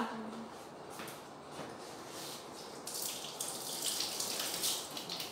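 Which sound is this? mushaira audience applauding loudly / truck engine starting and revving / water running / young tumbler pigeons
water running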